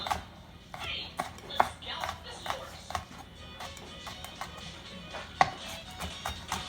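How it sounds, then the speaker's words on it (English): A knife rough-chops red onions on a cutting board, uneven sharp taps in quick bursts, close and moderately loud, with faint background noise. "start off with a rough chop, and then just keep going back and forth over them"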